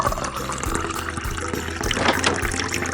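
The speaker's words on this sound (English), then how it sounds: "Stop making that stupid water pouring noise" Water pours and splashes continuously nearby, a bubbling, gurgling liquid stream with a steady churning texture and no talk over it.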